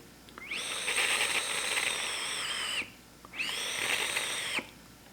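Two long airy whistles from the airflow of a Pocket D/S rebuildable dripping atomizer vape, each lasting a couple of seconds with a brief pause between, a breathy hiss with a steady high tone, close and clear.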